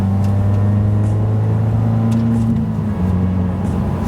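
A Subaru WRX with a manual transmission pulls through gear upshifts, a steady engine drone inside the cabin with a brief dip in pitch and load as each shift goes through.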